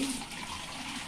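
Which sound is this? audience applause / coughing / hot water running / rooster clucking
hot water running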